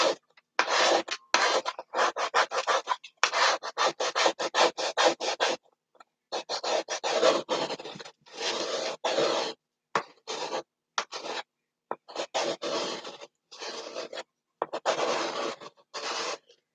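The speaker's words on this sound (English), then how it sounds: "I'm just going to scrape all that excess paste off of the board." Softened excess chalk paste being scraped off a board, close and loud, in repeated rasping strokes with short pauses between them.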